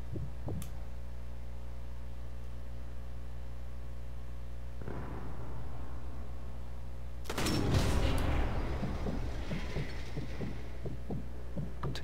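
Explosives shot in the video game Sniper Elite 4 set off a sudden deep boom with a rumbling tail over a constant low hum.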